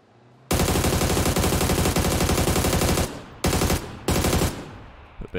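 Automatic rifle fire in PUBG sprayed at a car: a loud, rapid continuous burst lasting about two and a half seconds, followed by two short bursts, with no talk.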